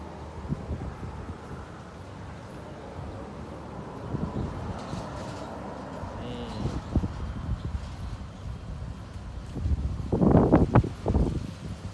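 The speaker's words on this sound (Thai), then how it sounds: "โอ้ลมค่อนข้างแรงเลยนะครับผมวันนี้" Strong wind roars across an open outdoor used car lot, a steady rushing buffet with rustling and a louder gust near the end, no voices.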